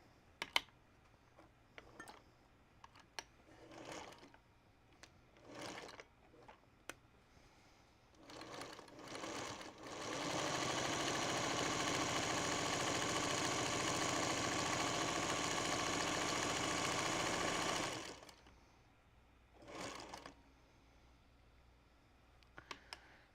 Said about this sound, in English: So I'm just going to take this to my machine and do that top stitch right here along the fold to secure all of this.